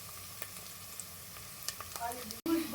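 Brinjals for Telugu stuffed brinjal curry (gutti vankaya) fry in a pan with curry leaves, giving a soft, steady sizzle with small crackles and a brief break near the end.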